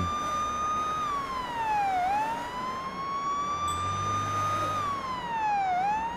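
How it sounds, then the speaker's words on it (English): A police car siren in a police simulator video game wails, sweeping slowly up and down in two long cycles, loud and steady, over a low engine rumble on a highway. "We can just put on our sirens"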